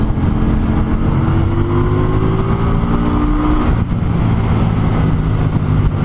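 A 2020 Indian Scout Bobber Sixty motorcycle engine braking on the road, a loud, continuous engine drone with falling pitch as revs drop under heavy wind rush, with a brief dip partway through.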